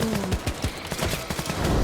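Rapid gunfire and explosive RPG blasts from the Roblox game War Machines, a dense run of sharp cracks and thumps filling the whole stretch at steady loudness.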